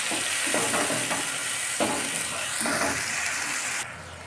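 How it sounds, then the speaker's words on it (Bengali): Onion paste frying in a pan for a doi katla fish curry, a constant close sizzle broken by a few soft stirring scrapes, with the hiss dropping off sharply near the end. "এর মধ্যে পেস্ট করে রাখা পেঁয়াজ দিয়ে দিচ্ছি। পেঁয়াজটাকে ভালোভাবে রান্না করে নিতে হবে।"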